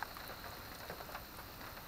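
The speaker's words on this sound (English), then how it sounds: "because it's raining so badly right now" Heavy rain falls outdoors at the Indian Point Trailhead in Shawnee National Forest, a faint, steady patter with scattered drops, continuous and unbroken with no talking.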